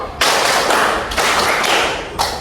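Rhythmic hand clapping in a high school classroom clap game, a few strong broadband claps in quick succession, loud and close, with no talking.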